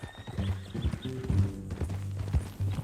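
Horse hooves clip-clopping at a walk in Red Dead Redemption 2, a steady, close hoof rhythm running under low ambient game sound.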